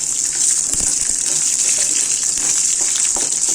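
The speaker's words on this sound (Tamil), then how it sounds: "ஒரு இஞ்சி துண்டு போட்டுக்கிறோம். எல்லாத்தையும் நல்லா வறுபடட்டும்" Ginger and a clove of garlic frying in a pan for a green thuvaiyal, a steady loud hiss and sizzle with faint crackles throughout, no talk.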